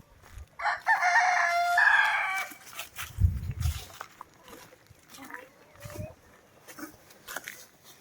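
Chickens let outside on a farm: a loud rooster crow rings out near the start, followed by scattered clucks and soft farmyard noises, with a person talking intermittently.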